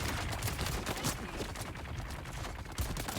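Dense, continuous heavy machine gun fire from the Dune Awakening game, a rapid rattling barrage that keeps up steadily for the whole stretch with a few louder bursts, close and loud.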